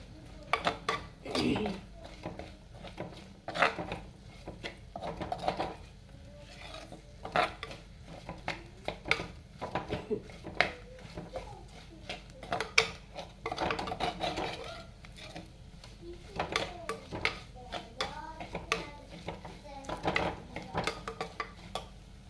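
Coriander and chili powder being stirred and sautéed in a pan for tuna fish curry: repeated close scrapes and clinks of a spoon against the pan, with a faint sizzle underneath.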